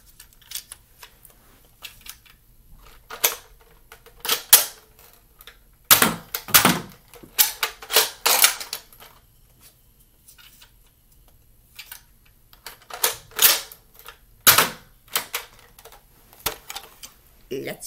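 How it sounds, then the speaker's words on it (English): A NERF Barrel Break IX-2 blaster is cocked and fired, heard as sharp clacks and mechanical clicks in scattered clusters with quiet gaps, close to the microphone. "Now we're going to be shooting one and then the other."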